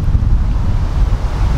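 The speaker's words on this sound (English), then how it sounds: "Wait for the wind to stop." Heavy wind buffets the microphone with loud, rumbling low-end gusts throughout, no voices present.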